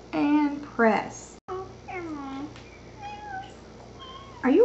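A young child imitates a cat, making a series of high, wavering meow-like cries with short pauses between them, close and fairly loud, the last one rising sharply.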